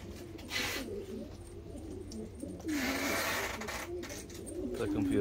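A pair of Blondinette fancy pigeons, black and chocolate, coo in a loft, low rolling calls repeating under a bed of other birds, with a brief louder burst of noise and a faint voice nearby.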